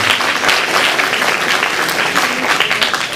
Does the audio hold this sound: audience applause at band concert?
yes